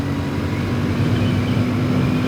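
A Royal Enfield Classic 650 Twin motorcycle accelerates in third gear, its engine giving a steady, loud, continuous drone that holds at a constant level throughout, with no voices over it.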